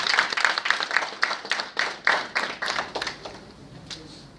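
Audience applause at a West African inclusive security conference, a patter of claps rising and falling in loose bursts over about four seconds, then thinning out toward the end.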